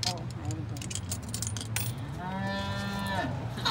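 A recorded moo plays from a giant talking cow statue, a long, loud bellow following clattering and rattling noises, with some voices nearby.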